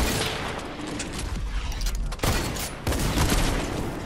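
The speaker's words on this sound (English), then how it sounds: "I accidentally shot my shotgun" Gunfire in Fortnite, including an accidental shotgun blast, comes as dense, loud bursts of shots with a brief gap in the middle, followed by more firing.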